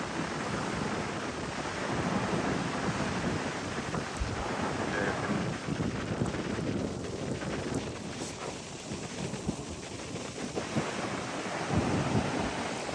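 Ocean waves along the Virginia Beach beach front, a continuous broad surf wash with wind buffeting the microphone, steady and fairly loud throughout.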